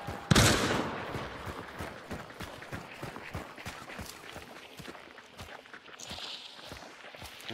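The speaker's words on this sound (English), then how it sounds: "He's shooting at me." A single loud gunshot in the video game Hunt: Showdown cracks near the start, followed by a quick, steady run of footsteps and fainter background noise.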